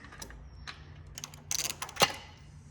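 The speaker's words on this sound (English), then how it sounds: "what I'll do is get myself a ratchet and wrench, and you just work at it." A ratchet wrench turns a bolt on the horn bracket of a 2011 Jeep Wrangler, short bursts of fast clicking with metallic scrapes and a sharp clack, close and alone without talk.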